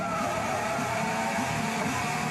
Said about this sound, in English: I love to hear tyre squeal.